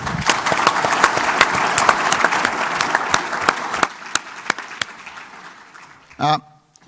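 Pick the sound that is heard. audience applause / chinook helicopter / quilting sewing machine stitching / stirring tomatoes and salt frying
audience applause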